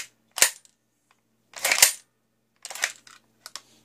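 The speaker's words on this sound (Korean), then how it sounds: "장전 소리를 한번 자세히 한번 들려드릴게요" A WE SCAR-L airsoft rifle is cocked and loaded: sharp, close metallic clacks and slides of the bolt in separate bursts, with short silences between them.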